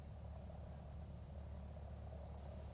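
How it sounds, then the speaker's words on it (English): A small general aviation aircraft engine rumbles steadily while taxiing toward the runway, a continuous low, even drone with no talk over it. "start the engine, and once the oil temperatures are into the green arc, you begin your taxi to the end of the runway"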